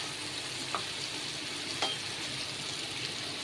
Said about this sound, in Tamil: பன்னீர் பட்டர் மசாலானால பட்டரில் ஃப்ரை பண்ணலாம்